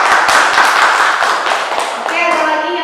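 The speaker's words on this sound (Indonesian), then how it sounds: "Tepuk tangan buat Ima." Classroom clapping for a student named Ima during a group guidance lesson, a dense burst of many hands applauding together for about three seconds, with voices starting to talk over the end.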